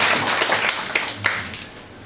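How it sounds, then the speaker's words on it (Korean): A church audience at a family-worship teaching session claps briefly after answering a question, a short burst of mixed hand claps with no voices over it. "박수 한번 쳐주세요"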